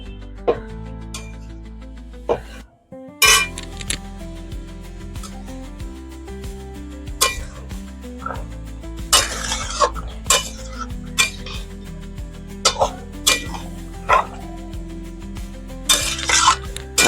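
Spoon stirring chitol fish bones in a simmering curry broth in a pot, with repeated metallic clinks and scrapes against the pot, close and fairly loud, set over a low background hum.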